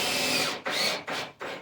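Power drill driving deck screws into OSB for a garage loft, three close, loud bursts of whirring motor separated by brief pauses, with no talking.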